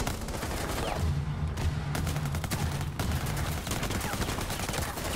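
Rapid gunfire in Rainbow Six Siege, a dense, loud run of bursts and single shots crackling continuously over about five seconds with brief dips between volleys.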